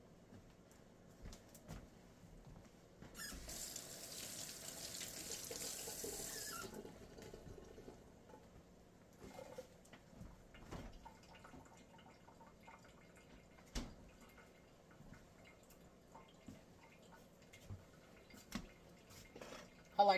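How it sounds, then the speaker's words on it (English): Kitchen tap water runs in a steady hiss for a few seconds as hands are washed, then stops, leaving scattered drips, small clatters and a voice talking quietly. "Wash my hands right quick."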